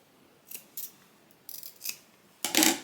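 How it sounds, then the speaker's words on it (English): Scissors snip close to the stitches while a fabric bag is being sewn, a handful of quiet, crisp cuts spaced apart, ending in a louder, longer final snip. "You just want to get as close as possible without cutting through them."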